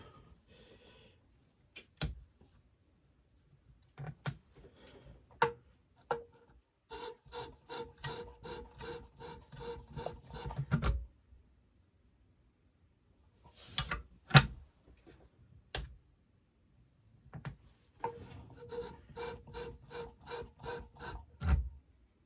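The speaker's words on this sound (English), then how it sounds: "We're going to make really light passes because this diamond wheel, it'll take off material really quick if you're not careful." Scissor blade being sharpened with light passes on a diamond wheel, producing repeated bursts of fine rasping grind separated by pauses and sharp clicks, close and fairly quiet with no talking.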